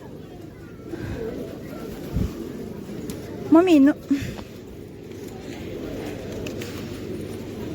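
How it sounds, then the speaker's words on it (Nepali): Pigeons coo in a short warbling burst amid crowds at Pashupati temple, with footsteps, ambient bustle and a voice speaking nearby. "परेवा नै परेवा"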